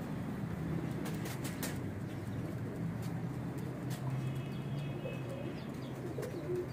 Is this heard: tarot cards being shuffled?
no